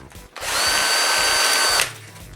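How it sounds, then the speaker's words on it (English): A power drill boring dust-extraction holes in a wooden sanding block: one loud, steady whine lasting over a second, starting and stopping abruptly, close by. "Then I drill some holes for dust extraction."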